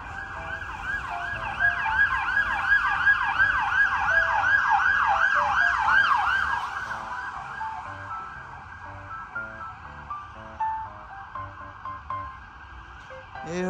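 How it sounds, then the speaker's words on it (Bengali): A police car's siren wails on a Brussels city street, loud and close at first with fast repeating up-and-down sweeps, then fading as the vehicle moves away amid traffic noise. "পু পু পু পু পু পু পু পু করে পুলিশের গাড়ি চলে গেল"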